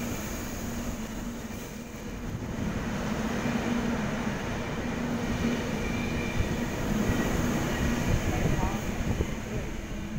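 A Sydney K-set suburban electric train rolls through Belmore station without stopping, a loud continuous rumble of wheels on rails with a steady hum, close by, and people talking underneath.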